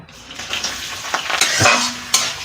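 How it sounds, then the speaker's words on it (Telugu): Onions dropped into hot oil in a pan for a wild forest curry, sizzling and frying with stirring scrapes and a few utensil clinks, close and loud. "ఇప్పుడైతే ఆనియన్స్ వేస్తున్నాను"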